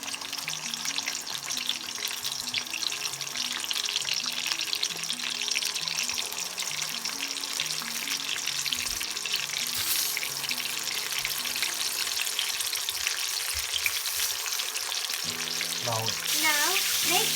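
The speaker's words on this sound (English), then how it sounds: "Now we will add the masala filled tinday into the scorching hot oil. It will gradually fry these tindays." Masala-filled tinda, or baby pumpkin, frying in scorching hot oil, giving a loud, steady, dense sizzle that runs throughout, with a few brief clinks near the end.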